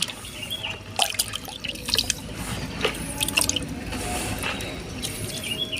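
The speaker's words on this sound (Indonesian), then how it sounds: "Kemudian selanjutnya kita aduk lagi, kita aduk sampai rata." Liquid plant fertilizer mixture being stirred, giving soft sloshing with scattered small drips and splashes close by, steady and moderately loud, with no talking.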